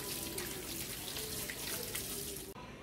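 Tap water runs steadily into a sink as food is washed in lime water during meal prep, a constant close splashing stream that cuts off abruptly near the end.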